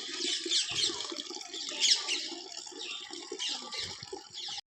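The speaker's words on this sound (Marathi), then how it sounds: "नळाला पाणी जरा वेळानं मोठं येते पाणी अजून आत्ता लय बारीक आहे" A thin stream of running tap water splashes steadily into a sink, a continuous hissing trickle with brief louder surges, close by and alone.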